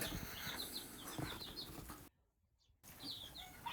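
Two American-breed roosters scuffle with bursts of flapping wings and agitated clucks, fairly close, broken by a short near-silent gap before the commotion resumes.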